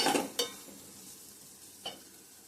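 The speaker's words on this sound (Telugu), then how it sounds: "కారం పచ్చివాసన పోయే వరకు వేయించుకుంటే సరిపోతుంది" Chili powder fries in a pan, a brief burst of sizzling at first, followed by two distinct spatula knocks over a faint, fading hiss.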